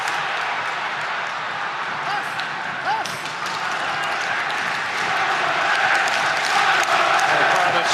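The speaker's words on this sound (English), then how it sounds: "The crowd has certainly woken up now" Football stadium crowd roars as a continuous broad wash during a league match, swelling louder near the end, under a commentator's voice.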